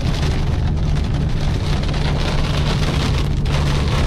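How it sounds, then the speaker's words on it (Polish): Heavy cloudburst rain drums steadily and loudly on a car during a downpour over farm fields, a dense continuous roar with no pauses. "oberwanie chmury."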